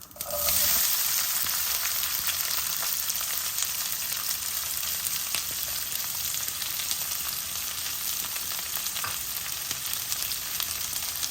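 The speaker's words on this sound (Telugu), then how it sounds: "ఇది బాగా ఎర్రగా అయ్యే వరకు వేగనివ్వాలి" Onions and cumin fry in a pan with mustard seeds already crackling, making a constant, loud, close sizzle that holds evenly throughout with faint stirring underneath and no talk.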